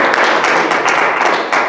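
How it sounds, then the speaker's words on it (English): A church congregation claps together in a steady burst of applause, many hands close and loud with no break, after a prayer. "Give the Lord a clap."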